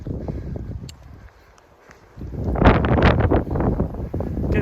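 Gusting wind on a high Appalachian Trail mountain path buffets the microphone in a roaring rush, easing off briefly before surging back louder and rougher.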